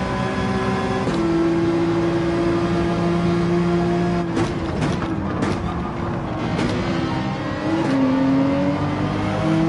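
Race car engine in Gran Turismo 7 droning at high revs, with the pitch holding steady, dipping and rising through gear changes, loud and continuous with brief bursts of tire and impact noise.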